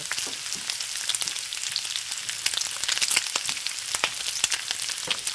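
Hot palm oil crackling and spattering as food fries for nsaka madesu, a dense, close sizzle with scattered sharp pops and no voices.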